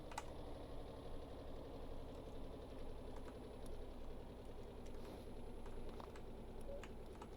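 A boat engine in Stormworks: Build and Rescue runs steadily at a low throttle setting after starting, giving a continuous low, knocking mechanical drone at an even level throughout.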